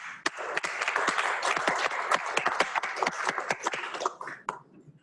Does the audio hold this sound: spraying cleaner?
no